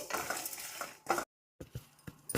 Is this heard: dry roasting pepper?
yes